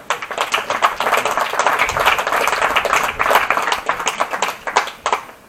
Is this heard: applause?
yes